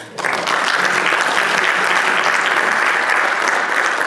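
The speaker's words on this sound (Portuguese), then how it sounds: "Aqui quero agradecer ao painel uma salva de palmas" Sustained, dense applause from a conference audience thanking a panel at a railway certification event, loud and steady throughout, with no speech over it.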